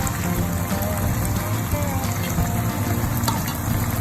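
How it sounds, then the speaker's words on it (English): Water pours into a pan of beef and asparagus stir-fried with hoisin sauce, a steady gushing, splashing rush that continues at close range throughout. "Add some water and then boil."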